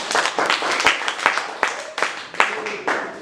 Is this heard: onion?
no